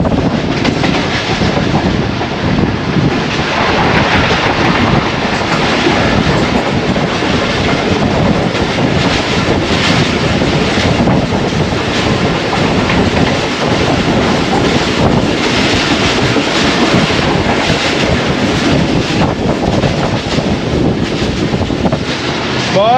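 The Pak Business Express passenger train runs through Chichawatni station with a steady, loud rolling roar of wheels and carriages, faint rhythmic rail clatter, and heavy wind buffeting the microphone throughout.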